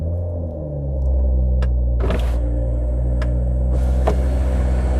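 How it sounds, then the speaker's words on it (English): A BMW Z4 Roadster is started, its engine catching and settling into a steady low idle rumble, with a few sharp clicks and a brief whoosh during start-up. "I'll just start the car."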